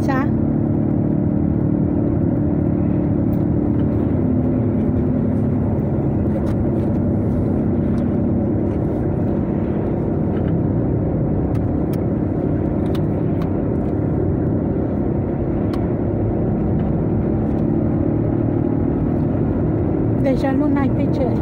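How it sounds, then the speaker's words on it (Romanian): Steady engine drone and road rumble from inside a car on a road trip through Austria, loud and continuous for the whole stretch with a constant low hum and no break. "O plimbare cu mașina."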